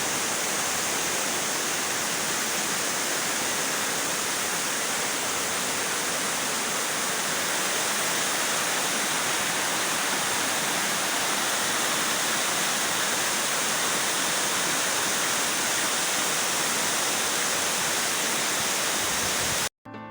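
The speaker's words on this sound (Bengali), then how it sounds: "ভিউয়ার্স আপনারা দেখছেন এলিফ্যান্ট ফলসের সেকেন্ড স্টেপ প্রথম স্টেপ থেকে দ্বিতীয় স্টেপটা বেশি সুন্দর লাগছে" Second tier of Elephant Falls in Shillong, a steady, broadband rush of falling water that roars evenly and continuously at close range, with no voices, cutting off abruptly at the end.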